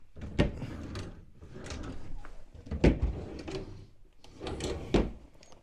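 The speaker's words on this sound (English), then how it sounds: "Let's look in these drawers there." Hotel room drawers slide open and shut several times in a row, each move ending in a sharp wooden knock, close and fairly loud with no talking.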